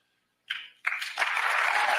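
A small audience breaks into clapping after a short lull: a brief burst, a pause, then steadier applause building and holding at moderate loudness.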